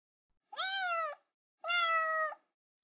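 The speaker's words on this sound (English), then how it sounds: "she heard the kitten again" Two drawn-out, high-pitched kitten meows, close and clear, separated by a short silence.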